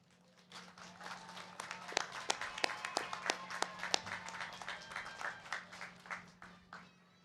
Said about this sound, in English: Graduates, please turn and give your families and friends a round of applause.